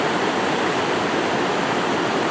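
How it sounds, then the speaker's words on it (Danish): Water rushing down a mill race channel toward a large wooden waterwheel at an old sawmill in Norway, a loud, dense, steady roar with no break, close by and alone. "Så er vandstanden steget, og vandet er ledt ned igennem møllerenden her."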